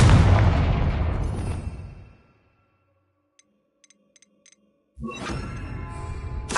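A Confringo fire-blast spell explodes in Hogwarts Legacy with a loud, rumbling boom that rolls out and decays over about two seconds, then near silence with a few tiny clicks before another loud burst of game sound starts.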